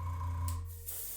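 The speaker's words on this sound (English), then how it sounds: "I think we'll just stick with spraying this color directly on the resin" Paint colour sprayed from a can directly onto a resin garage kit figure's hair, one steady hiss over a low hum that stops partway and resumes briefly, close and fairly quiet.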